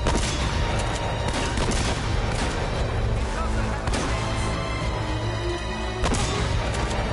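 Shotgun and other gunfire in the action game Uncharted: dense, loud, overlapping blasts in a chaotic firefight, with a few heavy booms standing out and a person talking over the combat.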